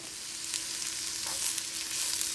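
Sweet potato fries frying in oil in a pan on a stovetop, a steady loud sizzle that holds throughout with faint crackles and no talking.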